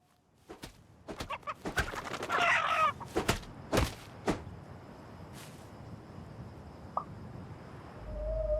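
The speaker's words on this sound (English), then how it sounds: "Oh, it's a chicken." A chicken clucks in a crafting video game, several quick clucks and squawks near the start followed by a burst of louder calls in the middle, then quieter sparse sounds with faint background tone, no talk.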